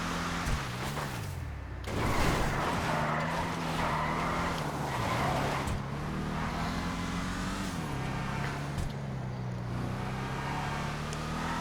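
Tampa muscle car driven hard in a video game, its engine droning steadily with pitch rising and falling through gear changes and tire noise, loud and continuous throughout.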